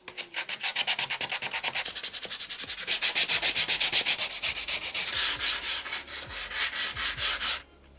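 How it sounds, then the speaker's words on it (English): Rhythmic back-and-forth sanding strokes scrub dried wood glue squeeze-out off a reclaimed wood farmhouse kitchen island, loud and close, speeding up then slowing before stopping abruptly. "I think I'm going to try and sand off some of this squeeze out and then get a coat of paint on"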